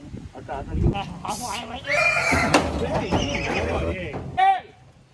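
A Kathiyawadi mare whinnies nearby, with a loud shrill neigh near the end, while people talk over it.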